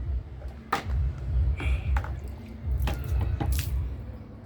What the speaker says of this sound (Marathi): पाणी फेक चालू आहे